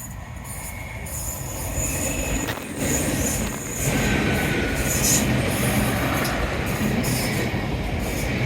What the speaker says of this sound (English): Another nice slow train, deliberately slowing down to give us the full benefit of the chance to look at it